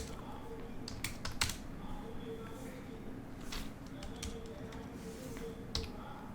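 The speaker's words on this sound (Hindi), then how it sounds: "कुछ अलग टाइप करते हैं" Computer keyboard typing in bursts of quick, light key clicks, picked up at moderate level beneath steady background noise, with pauses between runs of keystrokes.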